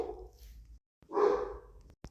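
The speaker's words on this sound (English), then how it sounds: "Sorry if you can hear my dog." A pet dog barks once, muffled and somewhat distant indoors, after a soft earlier whimper-like sound and a brief click near the end; no talking over it.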